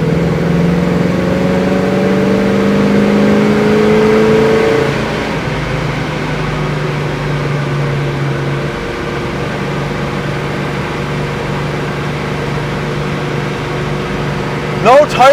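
A 1970 Chevrolet Chevelle cruising at highway speed, around 70, with a steady engine drone and road roar that eases slightly as it slows for traffic, while someone talks over it.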